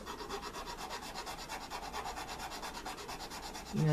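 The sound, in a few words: filing a model freight car with a handheld file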